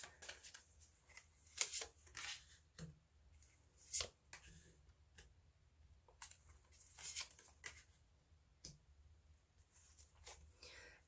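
Tarot cards are shuffled and drawn close by in soft, faint riffles and light flicks with brief pauses, under someone speaking quietly.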